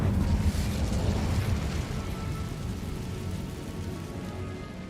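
The Incendio fire spell is cast in the video game Hogwarts Legacy, giving a dense roaring, crackling burst of flame that starts loud and fades slowly into a rushing hiss, with no talk.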